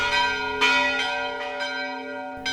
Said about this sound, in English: Yes, bells, any excuse to use a sound effect